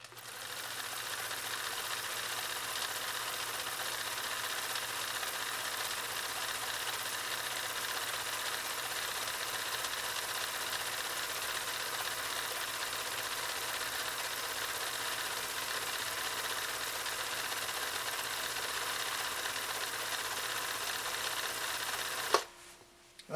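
A Husqvarna Viking 2000 sewing machine runs a cam stitch pattern, a faint, steady mechanical whirr that continues evenly for over twenty seconds before a click ends it.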